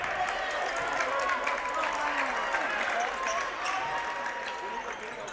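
The Tonganoxie home crowd roars in a gym during a basketball game against Eudora, a loud, sustained cheer with scattered shoe squeaks and bounces, and an announcer talks over it.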